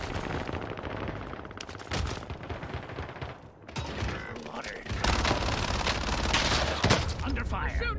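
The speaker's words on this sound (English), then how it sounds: "Under fire. Shooting at me!" Bursts of automatic gunfire in Call of Duty: Warzone, rapid rattling fire and sharp shots coming in waves, loud and dense, with game voice lines mixed underneath.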